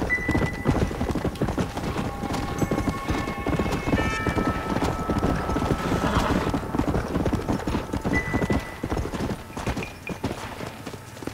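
Horse hooves clip-clop in a steady galloping rhythm while riding in the video game Red Dead Redemption, loud and continuous, with a brief whinny and faint rain or wind behind.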